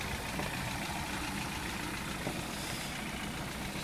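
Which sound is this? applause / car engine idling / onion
car engine idling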